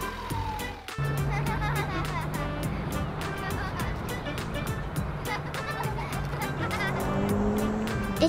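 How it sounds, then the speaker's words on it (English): A toy car from a children's vehicle play set rolling and revving with a steady engine-like hum, tire squeal and clatter throughout, preceded by a sharp crash, with voices talking over it. "It's a car."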